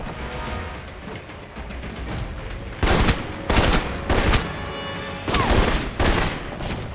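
Gunfire from the video game Alpha Protocol comes in loud, close bursts of rapid shots, about five volleys in the second half over a steady background hum.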